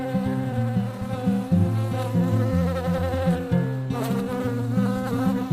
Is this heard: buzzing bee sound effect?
yes